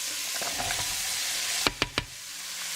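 Celery and chopped carrots frying in a hot pan give a steady, close sizzle, with a few soft knocks from a spoon near the end.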